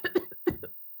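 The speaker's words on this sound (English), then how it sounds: "That's why I was coughing." A streamer gives a few quick, close coughs in succession, short rough bursts followed by a faint trailing throat sound, with no talk over them.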